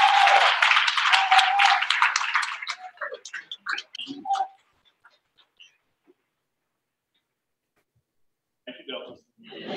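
An audience applauding after a speech at an alumnae chapter event: dense clapping for a few seconds that breaks into scattered claps, followed by quiet and a brief return of sound near the end.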